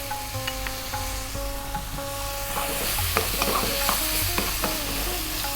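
Turmeric, chili and coriander powders fry in hot oil under constant stirring, a busy sizzle punctuated by frequent spoon scrapes and taps against the pan.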